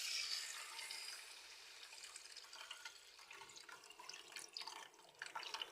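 Strained tamarind water poured into a simmering curry of manathakkali keerai (black nightshade greens), a faint, steady liquid trickle and splash heard alone at low volume.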